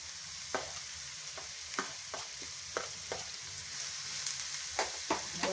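Capsicum and tomatoes sautéing in a pan, a steady bright sizzle with repeated scraping stirs of a spoon at an irregular rhythm, close and alone.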